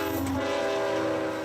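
A locomotive horn blares at a downtown Davenport railroad crossing, one sustained loud multi-tone blast with a rumble of train noise beneath, nearby and without voices.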